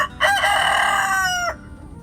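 A rooster crows once, loud and close, in a short burst lasting just over a second, with faint farmyard hens around it.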